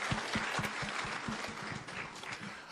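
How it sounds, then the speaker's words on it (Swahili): Audience applause at a Shabana FC fundraising event with Gusii leaders, steady broadband clapping throughout with a few sharper individual claps standing out near the front, filling the whole stretch without any speech over it. "Makofi tena jamani."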